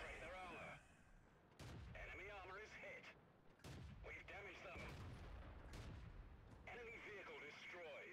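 World of Tanks cannon fire from a Matilda tank shooting gold ammunition: several loud, sharp booms spaced a second or two apart, each followed by rumbling decay, with a voice talking between shots.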